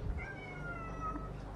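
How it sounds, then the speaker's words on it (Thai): A cat meows near an outdoor cooking spot where mackerel and crab are grilled in banana leaf on a rainy day, giving a couple of drawn-out, moderately close calls over a steady low background hum. "หอมจนแมวร้องนะคะ"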